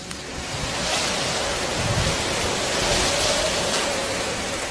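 Monsoon storm winds and rain sweep across a marsh, a dense steady rushing hiss that swells gently and stays constant, with no voices.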